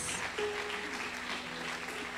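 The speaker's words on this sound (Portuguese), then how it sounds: "Aplaude a Deus, aplaude." A church congregation claps together, a dense steady round of applause at moderate distance, with a faint voice or tone held briefly within it.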